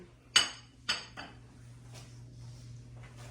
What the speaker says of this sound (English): So now we're going to place it on the pan, each of them on the pan.